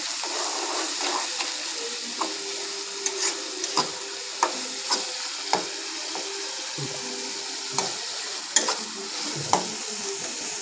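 Turmeric stirred into softened tomatoes for a chicken curry in a hot pan, a steady sizzle throughout with repeated soft scrapes and taps of a spoon, close and continuous, no talking.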